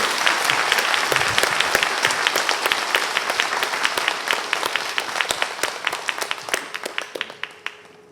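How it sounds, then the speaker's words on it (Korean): A church congregation at a New Year revival service applauds the guest pastor: dense, loud, sustained clapping from many hands that thins into scattered separate claps before fading out. "강사 목사님 나오실 때 감사와 사랑의 박수 힘껏 보내주시기 바랍니다."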